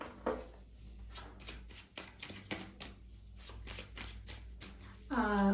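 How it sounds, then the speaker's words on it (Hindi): Tarot cards being shuffled by hand, a run of quick papery riffles and slaps repeating close up, ending in a brief louder rustle. "I will shuffle again."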